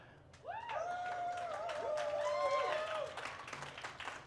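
Applause from a crowd at an outdoor jazz concert by an Army band ensemble, soft and distant clapping that swells and fades, mixed with a lingering whistled or sung tone.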